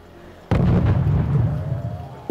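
Mortar strikes land in a strategy video game: a sudden heavy explosive burst followed by a dense, rumbling roll of blasts that slowly thins, with a smaller thump near the end.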